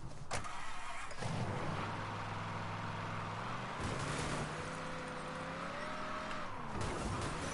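A car engine starts up in the Mafia III video game and then idles and revs with a low, steady throbbing, loud and unbroken, with no talk over it.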